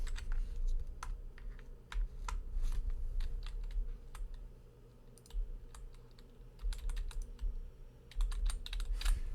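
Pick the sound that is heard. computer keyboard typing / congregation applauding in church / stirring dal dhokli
computer keyboard typing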